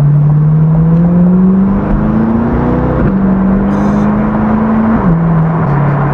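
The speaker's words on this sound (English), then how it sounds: "exhaust just like drowns out everything else" A C8 Corvette with a loud aftermarket exhaust and an aftermarket air filter drones close by at cruising speed, its engine note climbing gradually, then stepping down sharply twice as gears change, with no talking.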